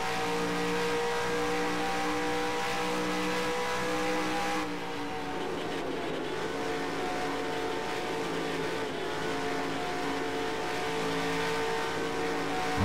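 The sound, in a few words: race car engine revving in NASCAR Racing 2003 video game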